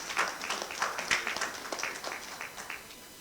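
Audience applause at a national stakeholders' dialogue event, a steady patter of many hands clapping at moderate distance, fairly faint and tapering off toward the end.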